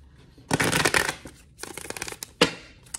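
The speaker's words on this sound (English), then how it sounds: "Let's shuffle this cards three times." Cards riffle-shuffled in quick ruffling bursts, three separate shuffles with brief pauses between, close and clear.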